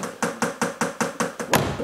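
Sharp identical test-impulse clicks from car speakers, heard during DSP time-delay tuning, repeat at an even pace, about seven in a row, each a short bright impulse with a slight ring.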